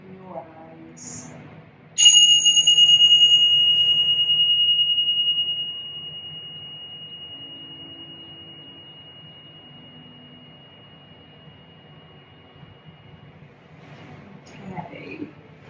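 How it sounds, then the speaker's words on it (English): Tibetan chimes are struck once, giving a sharp bright ring that sustains as a pure tone and slowly fades over many seconds in a quiet room, with a soft voice near the end. "Just going to strike these beautiful Tibetan chimes."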